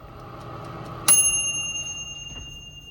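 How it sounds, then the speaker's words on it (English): A Granitestone glass air fryer signals that cooking is done with a single bright electronic chime that rings out and slowly decays over a low background hum. "This is what it sounds like when it's done."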